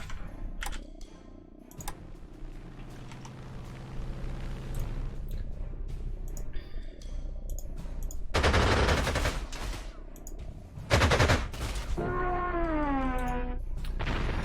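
Artillery fire support barrage in the strategy game Panzer Corps 2: heavy bursts of gunfire and explosions erupt loudly around the middle of the stretch, with softer shots and game interface sounds before and after.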